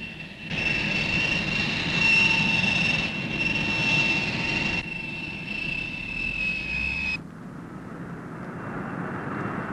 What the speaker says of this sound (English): The aircraft, named the Commodore, has already got its certificate of airworthiness, a vital step, and the prototypes are on flight trials.